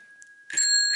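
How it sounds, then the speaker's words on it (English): A tring bell on a Dutch city bike gives a faint lingering ring, then is struck into a bright, rapid metallic trill that carries on loudly to the end, close by and with no voices. "on Dutch city bikes, and it's a tring bell"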